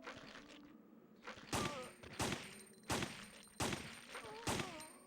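Gunshots in the video game Resident Evil 3: Nemesis, five sharp evenly spaced reports about a second apart, each with a short ringing tail, fairly quiet overall.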